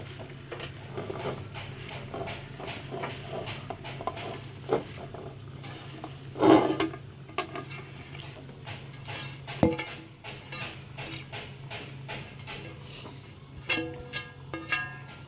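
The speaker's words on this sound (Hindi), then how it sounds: "अब मैं पालक इसमें ऐड करूँगी।" Spinach goes into a cooking pot for palak gosht, the chicken set aside, with scattered clanks of a metal spoon against the pot and soft stirring and rustling over a low background hum.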